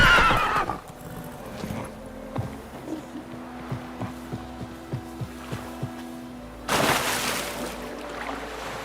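Roach, a horse in the video game Witcher 3, whinnies at the start, then trots with a steady series of close hoof clops before letting out a second loud neigh near the end.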